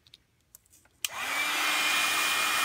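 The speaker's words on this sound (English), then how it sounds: "you could lift this up and hit it with your heat tool." A craft heat tool switches on after a second of near-quiet with a few faint clicks, then blows with a loud, steady, sustained whir while drying ink.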